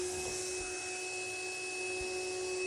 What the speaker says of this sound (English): go into the bathroom and use an Aquavac to suck it out